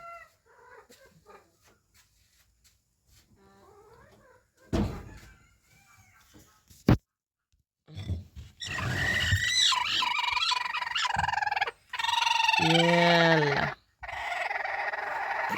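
A hen clucking near a clutch of eggs, with scattered soft clucks, then louder, drawn-out calls toward the end, mixed with a few knocks and rustles nearby.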